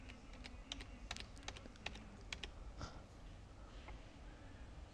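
Quiet computer keyboard keys clack in scattered taps and short bursts during work in video editing software, close and soft against a low room hum with no talking.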